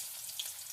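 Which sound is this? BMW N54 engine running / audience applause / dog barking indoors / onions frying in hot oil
onions frying in hot oil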